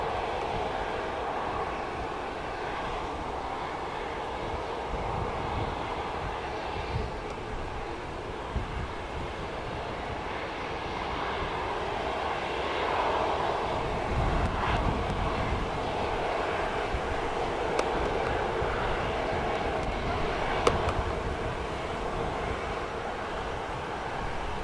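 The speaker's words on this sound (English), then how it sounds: "let's just watch this one land as well. Turkish just coming in." A Turkish Airlines jet lands at Manchester Airport, a steady, distant broadband roar that swells slightly midway and holds for the whole stretch.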